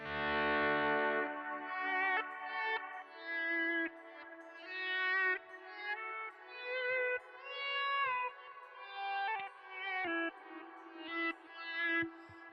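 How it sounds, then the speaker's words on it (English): Electric guitar played through a Kemper profile with a crunch tone, volume swells, delay and reverb; a series of swelling chords and notes rise and fade in a rhythmic pattern, with echoes trailing behind, heard alone and fairly loud. "And then the third one is a crunch with"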